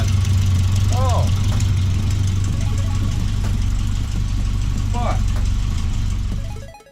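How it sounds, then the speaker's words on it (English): A Volvo 780 Bertone Turbo engine with an exhaust leak idles up close in a steady, even rumble, with faint voices nearby, before the sound cuts off abruptly at the end. "you got a little bit of an exhaust leak right where my fingers are at"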